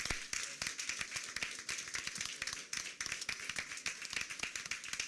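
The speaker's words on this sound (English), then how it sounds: "Let's give them a round of applause for that" A school board meeting audience claps for a varsity jazz team that won the 2023 IHS DTA state championship, dense steady applause from many hands in a room, moderately loud throughout.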